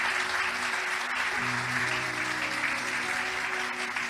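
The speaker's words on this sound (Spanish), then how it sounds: "Denle un aplauso fuerte al Señor" A church congregation applauds loudly and continuously, a dense wash of many hands clapping at once that fills the room at steady volume throughout, with no voices rising above it.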